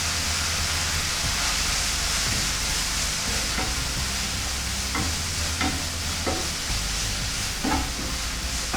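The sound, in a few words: stir-frying fenugreek leaves in pan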